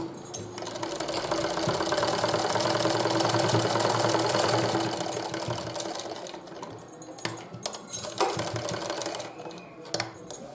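A sewing machine stitches fabric for a sports bra, running in a loud, fast continuous whir for several seconds, then stopping and starting in short bursts with clicks.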